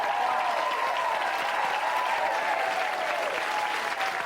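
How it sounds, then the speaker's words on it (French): Steady, dense applause from a studio audience on a French-language TV show, sustained and loud throughout with a few cheers mixed into the clapping. "As-tu vu les applaudissements nourris que tu as eus, Gaston?"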